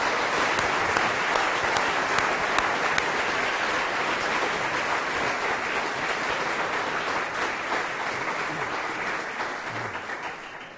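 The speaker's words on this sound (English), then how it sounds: "can I invite you to give him a very warm round of applause for this" A lecture audience applauds warmly, dense steady clapping filling the room for about ten seconds and slowly thinning toward the end.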